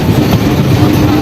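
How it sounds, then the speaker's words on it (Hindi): The Delhi Haridwar Express train rumbles loudly and steadily as it arrives at Muradnagar railway station, a brief dense roar of wheels and carriages heard close up. "तो फिलहाल ट्रेन हमारी अराइवल हो रही है मुरादनगर रेलवे स्टेशन"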